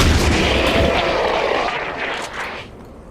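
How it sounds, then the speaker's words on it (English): A shotgun blast in the XCOM video game, a loud close boom with a long rumbling roar that slowly fades over a few seconds, with no voices. "Let's use the newfangled shotgun. Blam."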